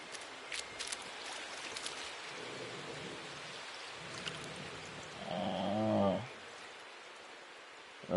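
Rain pours steadily during a storm in the space exploration game No Man's Sky, a broad hiss with scattered crackles and a swelling rumble near the end, with no talk over it.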